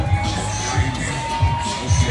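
Crowd cheering and clapping at a car sound competition on a Sunday afternoon, a short burst of mixed crowd noise over deep, rhythmic low thumps and a steady tone.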